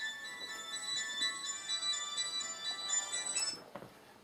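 Mobile phone ringtone, a bright repeating electronic melody of high beeping tones lasting a few seconds, fairly faint in a quiet room, with a soft knock near the end.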